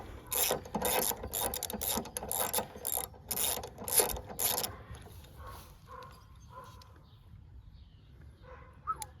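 Hand-pulling the recoil starter of a WeedEater 21-inch push mower engine that is stiff and hard to turn over, producing a series of rapid ratcheting, clattering pulls up close, then fading to quieter mechanical rattles.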